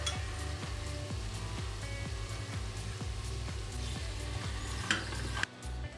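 Onions sizzle steadily in hot oil in a soup pot, with rhythmic scraping and clinks of a utensil stirring the pot throughout.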